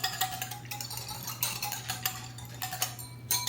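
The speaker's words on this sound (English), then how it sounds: "Gently whisk." A vinegar dressing being whisked gently in a bowl, giving a steady run of fast light metallic clinks and scrapes, close and fairly quiet, with no talking.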